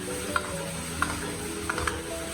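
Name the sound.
stir-frying choy sum with toasted bread in wok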